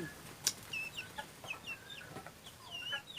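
Chickens cluck in a series of short, fairly faint calls with quick squawks scattered over quiet background noise, and no voices.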